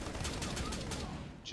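Gunfire in the video game Rainbow Six Siege, a rapid fusillade of shots rattling continuously through a short burst, fairly loud and dense with no pause.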